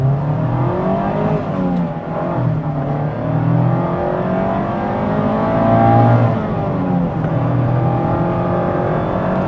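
A 2025 Mazda MX-5 Miata Grand Touring engine revving up as it accelerates in first gear, the pitch rising steadily and droning strongly, close and continuous without speech.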